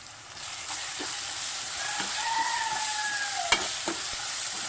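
Tomato and chili powder fry in a pan for egg curry, a constant close sizzle with occasional scraping stirs and a sharp utensil knock partway through, no voices.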